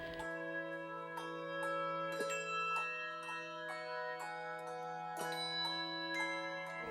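Handbells ringing in a tuned ensemble, a series of bright struck tones with sustained, layered ringing overtones, entering at an irregular, fairly steady pace, moderately near and alone without talk.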